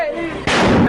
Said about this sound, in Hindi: 3 सिलेंडर धमाके हुए।